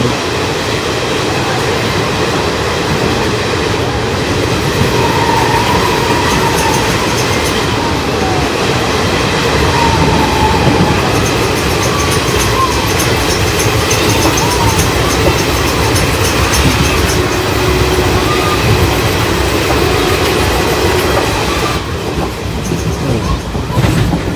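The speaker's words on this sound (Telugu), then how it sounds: "ఆ కొండ కానుకున్న దానికి హోల్ పెట్టి ఈ అందులో నుంచి వచ్చింది ట్రైన్" A train runs through a tunnel in a dense forest with a loud, continuous rumble and rattle of wheels on rails, steady for the whole stretch and close by.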